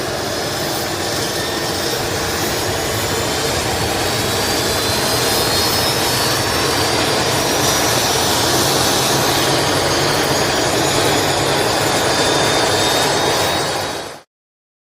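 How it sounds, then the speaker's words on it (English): A jet airplane flies overhead with a loud, steady, broadband roar that holds for about fourteen seconds and then cuts off abruptly, with no voices. "Want a closer look at a plane caught in the act?"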